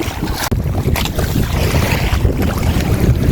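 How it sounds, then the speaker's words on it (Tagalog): Fishing boat engine running against a strong current at sea, a loud steady rumble mixed with heavy wind buffeting the microphone and water noise, with no talk. "Kaya andara namin ng makina kay medyo malakas ang anod."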